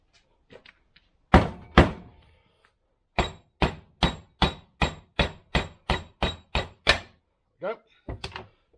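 Hammer blows drive out the drive shaft of a 1973 Range Rover: a couple of heavy metallic thunks, then a fast run of about a dozen evenly spaced hard strikes, with a few lighter knocks and brief talk around them.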